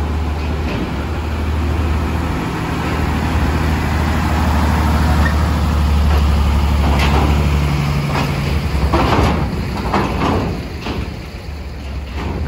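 Trailer trucks roll aboard a ship at Merak port, a loud continuous low engine rumble and drone with clanks and knocks from ramps or doors toward the end, no voices.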